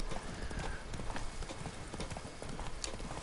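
Horse hooves clip-clop steadily in The Witcher 3: Wild Hunt, Blood and Wine, a continuous, fairly loud rhythmic trot layered over dense game ambience.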